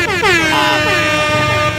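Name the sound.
horn of a Yamaha NMAX 155 scooter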